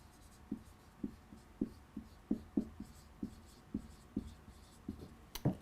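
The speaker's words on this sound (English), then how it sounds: "let me write this down" A pen or marker writes out notes, giving a series of short scratchy strokes at an uneven, steady pace, close and fairly quiet with no talking.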